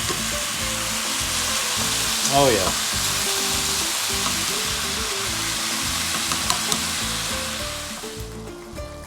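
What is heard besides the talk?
ground meat sizzling with peppers and onions in pan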